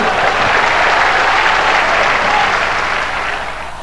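A church congregation at a large evangelical gathering in Puerto Rico bursts into loud, dense applause, a steady roar of many hands clapping that swells and then slowly fades.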